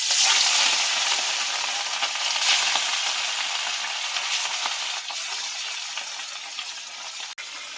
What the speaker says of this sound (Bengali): বন্ধুরা, মাছটা ভেজে নিচ্ছি,